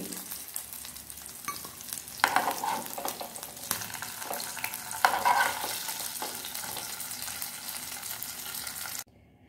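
Chicken pieces frying in a pan, a continuous close sizzle with occasional stirring scrapes and small spikes of spattering oil, cutting off abruptly at the end.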